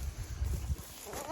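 A goat on a farm gives a short, faint bleat near the end, after some low rumbling handling noise.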